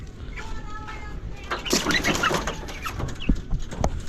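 Chickens cluck and chatter close by in short bursts, with a few higher calls mixed in over a steady farmyard background.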